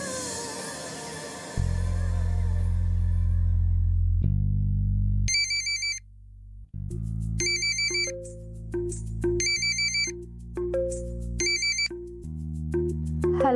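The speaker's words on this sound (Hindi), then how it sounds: "हाँ तनु, तुमने फोन किया था?" A synthesized phone ringtone plays loudly and alone, opening with a low sustained tone before a repeating electronic melody of bright pulsing notes cycles several times.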